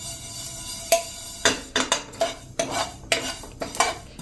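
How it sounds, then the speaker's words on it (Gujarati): Sesame seeds roasting dry in a hot pan, with irregular sharp pops and clicks scattered over a low background hiss, close and moderately loud. "ગરમ પેનમાં તલ શેકાતા કોઈ ટાઈમ ન લાગે અને આપણા તલ પણ ફૂટવા માંડ્યા છે"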